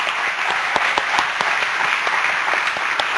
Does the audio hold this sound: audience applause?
yes